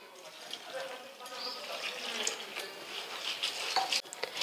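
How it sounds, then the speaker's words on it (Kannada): Medium flattened rice (avalakki) being washed in water by hand in a home kitchen, soft swishing and faint clinks of a bowl, quiet and continuous. "ಇದೊಂದು 2 ಸಲ ಚಲೋ ಹೊತ್ನಾಗೆ ತೊಳಿತೀನಿ ರೀ."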